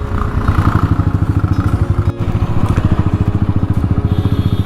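Motorcycle engines rumble steadily in a road traffic jam, close and loud, with a fast pulsing throb that drops out briefly for a moment before resuming.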